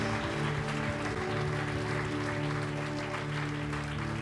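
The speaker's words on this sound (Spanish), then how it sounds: "¿Por qué no le da un fuerte, pero fuerte aplauso al Rey de Reyes, al Señor de Señores?" Church congregation applauds during a worship service, steady clapping blended with sustained music tones, moderately faint and continuous.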